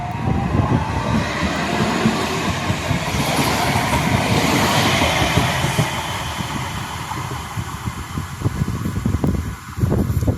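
A tram pulls away from the Blackhorse Lane stop on a 750 volt DC line, a loud, steady rolling rumble with wheel clatter that builds, holds, then eases slightly near the end, with no talking.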